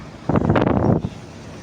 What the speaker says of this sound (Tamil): நல்ல பீச் காற்று